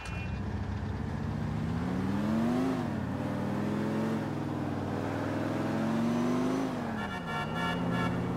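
A car engine revs and accelerates in Grand Theft Auto IV, a steady loud growl whose pitch climbs, dips at a gear change, climbs again and drops, with no talk over it.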